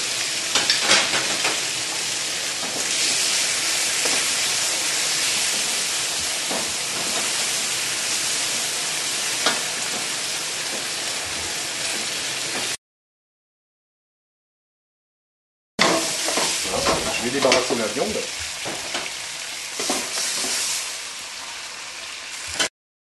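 Sesame chicken pieces fry in hot peanut oil in a wok after being browned and turned, giving a steady, close, broadband sizzle that stops briefly partway through and then resumes with some clatter.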